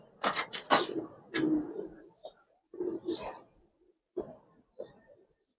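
A female Giribaz pigeon of Hemar coloring coos softly nearby, several low throaty phrases rising and falling with short pauses between them.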